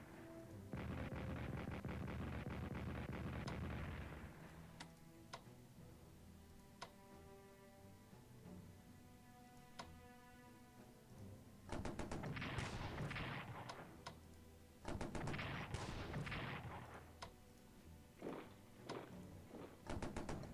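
Artillery fire in the World War I strategy game Strategic Command: World War I comes as heavy rolling booms in bursts, with one long barrage at the start and more clustered volleys later, separated by sharp ticks and quieter gaps.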